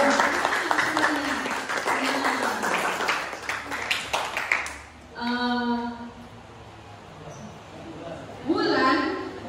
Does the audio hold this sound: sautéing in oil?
no